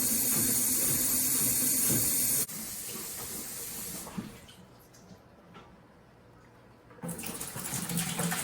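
Hot water runs from a tap into a 5-gallon bucket with a loud hiss at first, then drops to a quieter trickle and near silence before the strong flow resumes near the end.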